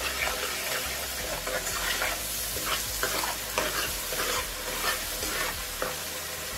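Tomatoes fry with spinach in hot oil, giving a steady loud sizzle with soft scraping stirs repeated through the clip.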